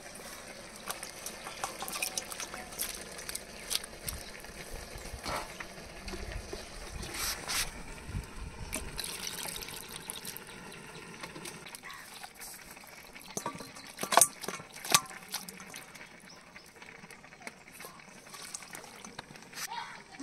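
Raw poultry chicken pieces are rinsed by hand in a bowl of water, giving splashing, sloshing and trickling sounds that come and go irregularly and stay close and moderately quiet.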